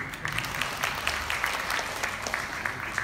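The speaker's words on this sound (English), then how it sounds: "please give him a round of applause, please" Guests at a partners' celebration gala clap steadily for a person being honored, with individual sharp claps audible in a continuous, moderately loud round of applause.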